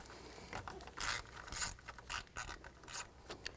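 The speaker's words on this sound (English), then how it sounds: "Use a 10 millimeter socket." A ratchet fitted with a 10 mm socket loosens an ignition coil bolt on a 2011-2017 Dodge Grand Caravan, giving close, quiet bursts of rapid clicking in several short strokes.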